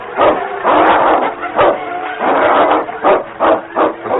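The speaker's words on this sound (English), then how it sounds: "The sound of the wind was split by snarls and growls of fury." A large dog snarls and growls in fury while fighting wolves in a windy wilderness, heard as several loud, harsh bursts of rough growling in close succession.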